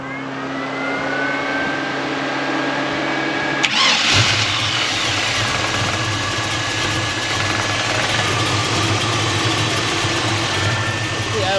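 A 1983 Chevrolet El Camino V8 cranks and catches, then settles into a steady, rumbling idle with slight revs, loud and close throughout.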